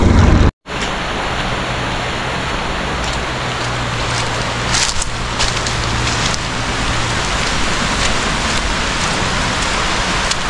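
Steady, dense rain pours down continuously, a loud hiss of drops drumming on surfaces with a low hum underneath, after a brief cut near the start.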